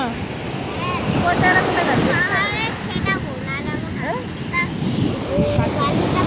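Continuous surf and wind roar at a shoreline, with people talking and children's voices over the washing waves.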